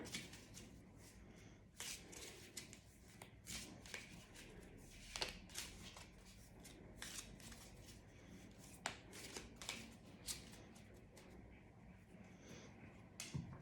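Tarot de Marseille cards shuffled and cut during a reading, soft continuous papery riffling with scattered crisp snaps and slaps, fairly quiet and close, no talking over it.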